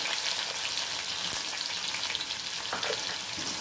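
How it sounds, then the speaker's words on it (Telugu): Chopped onions and green chillies fry in a pan for a tamarind curry, giving a constant close sizzle with light stirring sounds and no voices. "ఉల్లిపాయలు వేగిపోతున్నాయండి"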